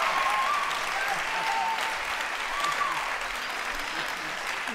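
A crowd at a summit applauds steadily, a dense wash of clapping throughout with a few voices faintly underneath.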